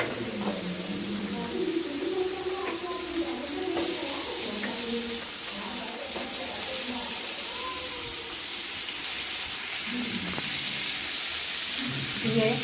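Carrot pieces fry in hot oil in a wok with a loud, continuous hiss and crackle, while a voice talks faintly underneath at intervals.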